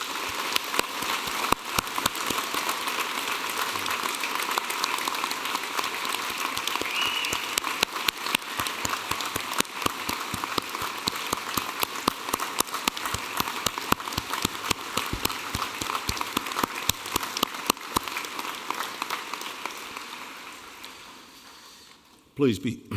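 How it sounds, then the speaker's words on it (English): A large audience at a University of Newcastle graduation ceremony claps steadily for graduates for about twenty seconds, a dense, even patter of applause that fades out at the end. "join me in applauding the wonderful achievement of our graduates"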